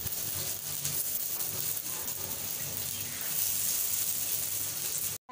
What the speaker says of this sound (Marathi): आपलं तेल गरम झालेलं आहे। आता आपण कारले ठेवूया।